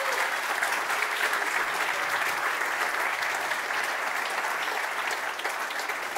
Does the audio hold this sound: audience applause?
yes